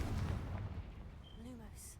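Bombarda or Confringo spell blast in the Hogwarts Legacy game, a deep low rumbling boom that fades out over two seconds with a faint tonal whoosh near the end.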